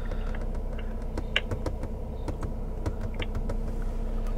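Rapid keyboard typing, a steady patter of sharp clicks and keystrokes heard up close against a low background hum, with no one speaking.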